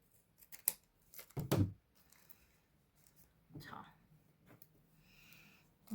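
Scissors cut through a paper envelope for a junk journal in a few crisp snips, mostly early and close, with quiet gaps and faint rustling between.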